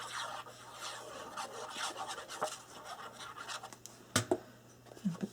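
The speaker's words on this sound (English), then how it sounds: "go ahead and burnish that to make sure they stick down good together" Paper layers of a handmade shaker ornament card base being burnished together by hand: steady, close, fairly quiet scratchy rubbing strokes, ending with a few sharper scrapes.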